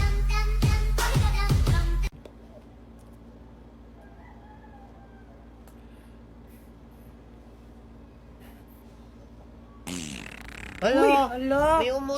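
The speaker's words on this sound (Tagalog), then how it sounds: "Hala, May umutot. sino yung umutot?" A loud, low, raspy fart bursts out over the first two seconds. Near-silence follows, and then a later stretch of crowing-like calls.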